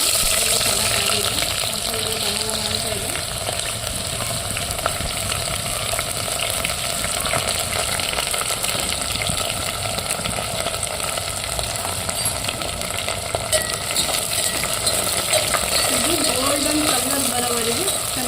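Sliced onions frying in hot oil with fennel and fenugreek for homemade chicken biryani, a steady loud sizzle throughout with occasional stirring scrapes and a voice speaking over it.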